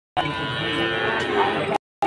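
A local-breed calf gives one long, drawn-out moo at a busy cattle market in Rustampur, Rajshahi, loud and close, then cuts off abruptly.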